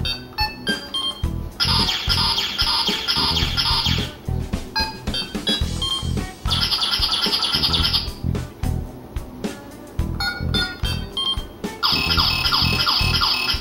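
A Power Rangers Lightspeed Rescue morpher toy plays its electronic sound effects: bright, shrill chirping bursts and warbling beeps that repeat in short bursts against a busy, buzzy background.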